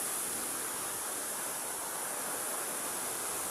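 Kanunga waterfall, where two falls meet, produces a steady, dense broadband rush of falling water, constant and enveloping without breaks.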